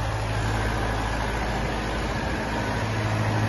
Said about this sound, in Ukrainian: Видає стабільну роботу 40-сильного двигуна.